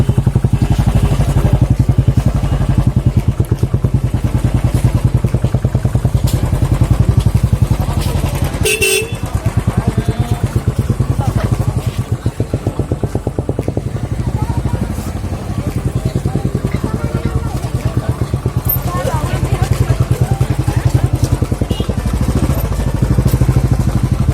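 A motorcycle engine idles and revs close by with a steady low rumble, set in busy, crowded street noise in Kapilvastu with a brief horn-like burst midway.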